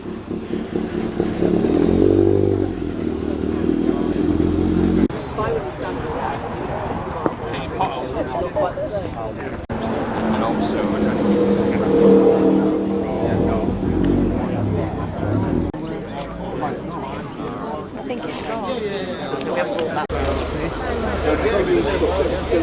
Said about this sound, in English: Off goes the TR3A.